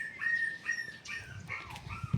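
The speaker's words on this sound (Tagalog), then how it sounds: "Dami niyang aso." Dogs in a yard yelp and whine in short, high-pitched bursts at middle distance, together with light rustling and a few low thumps.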